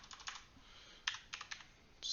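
Keystrokes on a computer keyboard as an IP address is typed into a browser, a few scattered clicks and short bursts of taps, close and fairly quiet, with no talking.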